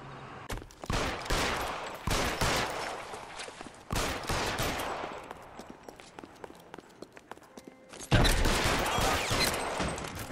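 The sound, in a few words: gunfire in L.A. Noire video game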